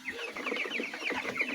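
Chickens clucking in a steady, busy stream of short calls close by, with no talk over them.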